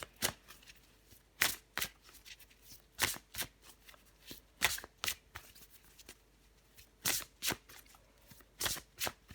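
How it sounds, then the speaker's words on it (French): Tarot cards being shuffled before a card is drawn, a run of crisp riffling bursts repeating every second or so, close and fairly quiet with no talking. "Je vais encore tirer une carte pour vous, les béliers"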